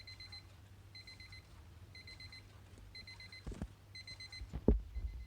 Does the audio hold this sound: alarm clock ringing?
yes